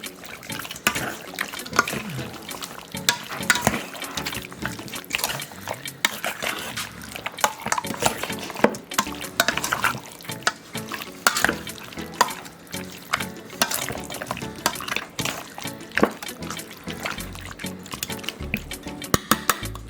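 Turkey wings are stirred by hand with ketchup, seasoning and salt for Trinidad-style curry stew, giving a long run of wet, squelching mixing sounds in uneven bursts, close up and fairly loud.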